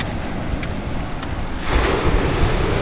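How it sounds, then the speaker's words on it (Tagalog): Big sea waves break on the shore in strong wind, a loud, continuous roar of surf and gusting wind close to the microphone, swelling into a heavier crash partway through, with no talk. "ayan yung alon yung lagpok yung malalaki ang alon"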